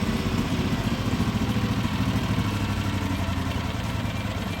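A gasoline engine on a DV23 vacuum package runs steadily, a dense rough drone with a fast, even low-pitched pulse throughout and no voices.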